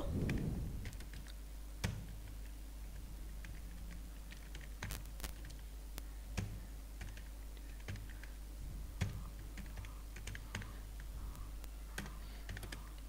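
Salesmen's names are typed into an Excel sheet on a computer keyboard: a steady run of quiet, close keystroke clicks with irregular spacing and a few sharper taps, over faint room hum.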